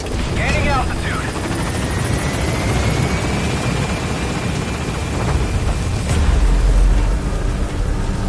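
A helicopter takes off and climbs in the video game Metal Gear Solid V, giving a loud, steady rotor roar with a rising whine. Brief chirping effects are heard early, and the rumble swells near the end.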